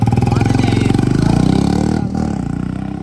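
A Royal Enfield Meteor motorcycle engine thumps loudly and close in a fast, even pulsing beat, briefly dropping off around two seconds before picking back up.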